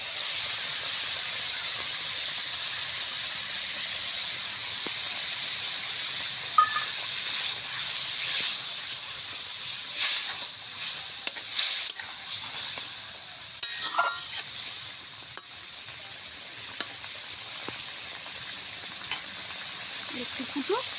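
A mustard and green chilli paste curry bubbles in a pan with a constant hissing sizzle, broken by occasional light clicks and scrapes nearby.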